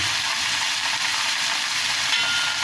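Mixed vegetables with lentil bori frying in a pan, a dense, even sizzle and hiss running steadily and close throughout with faint stirring underneath.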